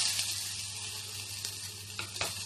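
Onion fries in hot oil with a quiet, steady sizzle and a couple of faint clicks from stirring, short and close, with no voices.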